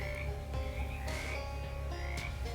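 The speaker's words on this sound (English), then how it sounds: "One of the larger frogs hops up to you and coughs loudly." A cartoonish frog croaks repeatedly in the video game Shadows Over Loathing, the loud, twangy calls sitting over a steady game soundscape with no talk.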